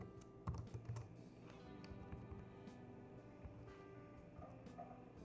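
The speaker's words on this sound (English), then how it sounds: "I'll just type the whole thing." Code is typed on a computer keyboard as soft, quick key clicks run in an irregular patter, close but faint, over a low background hum.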